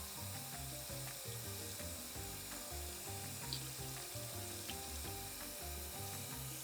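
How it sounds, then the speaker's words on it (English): Warm water runs steadily under the tap over a lace hairpiece being rinsed, a faint, even hiss with a soft rhythmic patter and no talking. "we're going to get this under warm water, and that should soften up the glue a lot"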